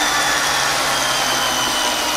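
A badly off-balance motor running steadily at 600 RPM, its structure shaking hard at the system's natural frequency, giving a continuous dense buzzing hum with no pauses or talk.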